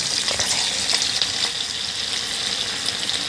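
Cabbage fritters (bora) frying in oil over a medium flame, giving a steady, close, continuous sizzle and crackle with faint faster spatters and no talking.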